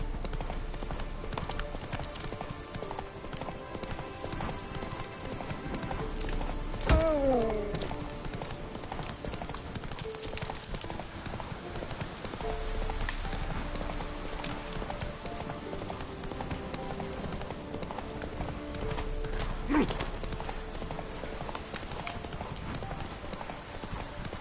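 Horse hooves gallop in steady clip-clop rhythm throughout, with a brief whinny partway, in The Witcher 3: Wild Hunt on PS5.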